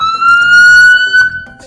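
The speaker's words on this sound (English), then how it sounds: "Do you guys want to hear the sirens go off?" A police car siren wails loud and close in a single steady rising tone that breaks off abruptly after about a second and a half.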